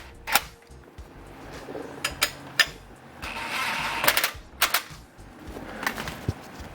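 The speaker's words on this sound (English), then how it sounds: "we're gonna go ahead and just shoot everything with the impact" Short bursts from an impact wrench driving bolts on the rear underbrace tie bars of a Lexus IS300, several sharp rattling hits spread across the clip with a busier stretch in the middle, no talking.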